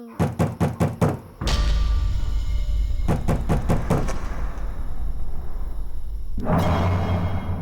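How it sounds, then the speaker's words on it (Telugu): A rapid series of sharp knocks on a door, followed by a loud steady rumble and then another burst of knocking. "ఎవరో డోర్ ఈ తట్టారు"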